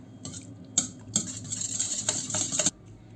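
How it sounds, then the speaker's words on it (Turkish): Whisking in a bowl, quick rapid scraping strokes of a whisk in bursts that grow into a steady run for about two seconds, close and clear before stopping. "Önce bir çırpalım."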